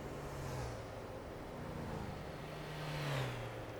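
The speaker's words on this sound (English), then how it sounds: "Okay, there's suddenly coming a whole bunch of cars." Several cars pass a parked truck in the Euro Truck Simulator game, Rheinland-Pfalz map, with a steady road hum and two gentle swells as vehicles sweep by at moderate distance, no one talking.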